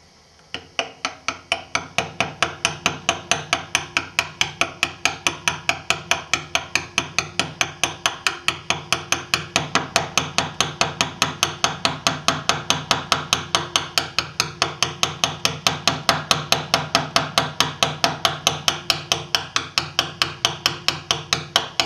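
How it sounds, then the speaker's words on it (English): A hammer drives a flat chisel into stone while carving a low relief, giving a steady, rapid series of sharp, close metallic taps that continue evenly throughout, with no talking. "work with the flat chisel"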